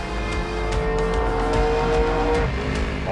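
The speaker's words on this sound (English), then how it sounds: "Runs a big block Chev, 468, 871 Supercharger on top." A big block Chevrolet 468 with an 8-71 supercharger idles and runs steadily up close, a loud continuous engine rumble with a lumpy, unbroken drone, no voices.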